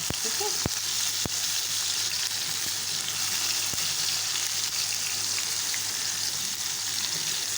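Tomatoes and onions fry in oil in a pan for a tomato chutney, giving a steady, close sizzle with a few sharp pops and stirring clicks throughout.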